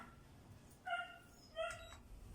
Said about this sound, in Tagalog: Kahit na medyo maingay yung aso